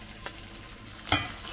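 Onion, garlic and ginger sizzle steadily in a hot pan, with a brief scrape of stirring partway through.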